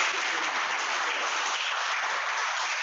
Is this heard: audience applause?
yes